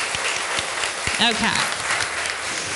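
An audience at an elementary school art competition applauds the student artists with steady, dense clapping throughout. A voice speaks briefly over it.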